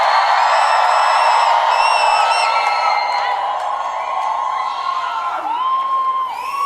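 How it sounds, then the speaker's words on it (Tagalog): A large crowd cheers, shouts and whoops at a senatorial proclamation night rally, a dense, loud, sustained roar with high-pitched voices rising above it throughout. "sana naririnig ni Pastor ang hiyawan at sigawan ng mga"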